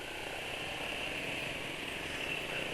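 A car engine idles steadily on clear engine oil, a continuous even hum with a faint rough edge, running alone without talk for the whole stretch.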